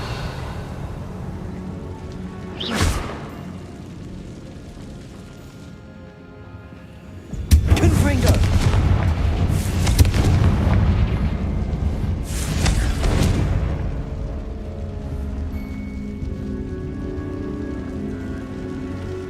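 Confringo blasting spells fired in Hogwarts Legacy, heard as a sharp burst followed by a long, loud rumbling crackle of explosions with a couple more booming blasts before fading back into low game ambience.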